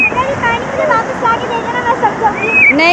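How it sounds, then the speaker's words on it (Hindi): Sea waves wash in at a seaside beach in a loud, constant surging roar, with higher voices calling and chattering over the surf throughout. "जैन खड़े रहना, और पानी आ रहा है"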